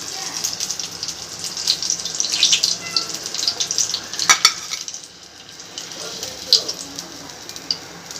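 Rajasthani mirchi vada fries in hot oil with a steady, bright crackling sizzle, close up, swelling and easing with occasional sharper pops and clinks as the fritters are moved.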